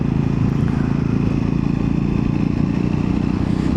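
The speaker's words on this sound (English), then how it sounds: "On the Triumph Scrambler 400X" A Triumph Scrambler 400X motorcycle under way, its single-cylinder engine giving a steady low throbbing drone with wind rush, constant and close throughout, with no voices.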